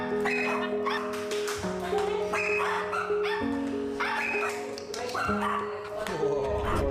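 A young, energetic dog that has lost two paws yips and whimpers excitedly, with repeated short high-pitched cries over a bright, busy musical backing.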